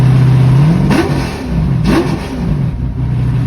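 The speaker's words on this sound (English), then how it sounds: "here's a revving clip to show you just how quickly it just boom" A car engine fitted with a lightweight 7-inch triple-disc clutch revs sharply twice, each blip climbing and dropping quickly back to a steady idle, loud and close.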